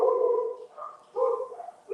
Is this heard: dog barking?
yes